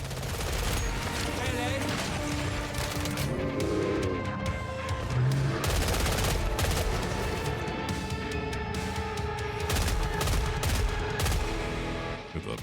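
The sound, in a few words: gunfire from a gun in the video game Killing Floor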